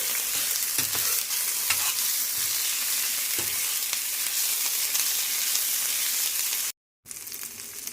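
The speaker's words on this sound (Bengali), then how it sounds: "একটু নাড়াচাড়া করে নেব।" Potato and cauliflower with chopped green chili and cinnamon sizzle steadily in hot oil, with occasional soft scraping from stirring; the frying stays close and continuous, cut by a brief silent gap near the end.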